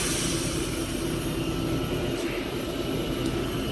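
A steady, dense machine roar from a lathe setup turning a bore-matched X-68 mock suppressor fills the whole stretch without a break or any voices.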